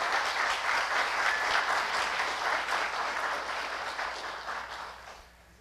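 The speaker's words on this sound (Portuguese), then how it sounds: "dar uma salva de palmas para essas pessoas que ajudaram a organizar o" A crowd at a conference closing ceremony applauds with steady clapping for several seconds, then the applause tapers off and fades out.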